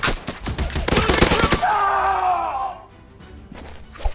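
Rapid bursts of assault rifle fire crackle loudly in a shooting video game for about a second and a half, then give way to ringing, metallic tones that fade into near quiet.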